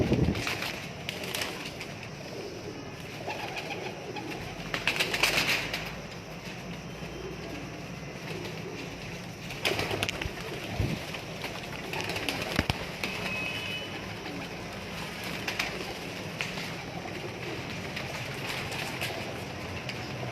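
Teddy pigeons, about seventy birds, coo together in a loft, a steady murmur of soft calls over a constant background hum with a few louder bursts spread across the whole stretch.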